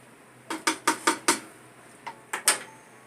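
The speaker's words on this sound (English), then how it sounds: "So I'm going to drop these into the pot, and I'm going to give that a stir." Tomatillos drop into a pot of chile verde sauce and get stirred, making a run of six sharp clunks followed by a pause and three more knocks, close and isolated against a quiet room.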